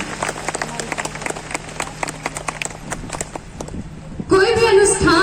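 A crowd at an outdoor public gathering claps, with sharp, uneven claps close by over a murmuring crowd, then loud music with voices takes over near the end.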